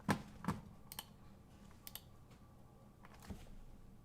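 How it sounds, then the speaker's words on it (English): Sparse typing on an Apple keyboard: a few crisp key clicks and taps spaced irregularly, close and quiet, with short pauses between strokes. "That sounds like an Apple keyboard, am I right?"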